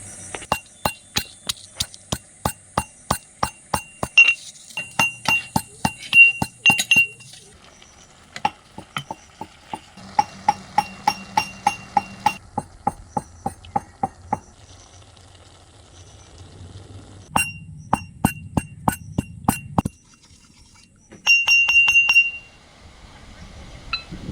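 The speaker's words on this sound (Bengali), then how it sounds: "ভেজে রাখা মশলাটাকে এবার গুঁড়ো করে নিচ্ছি" Roasted spices being ground for papdi chaat mixture at home, a rapid train of sharp clicking, knocking bursts in several runs with brief pauses, close and fairly loud, with scattered scraping in between.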